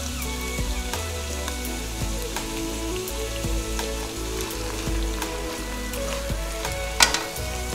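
Spring onion whites sauté in a hot pan with a loud, continuous sizzle and crackle, overlaid by the occasional scrape or tap of a utensil stirring, heard close up without speech.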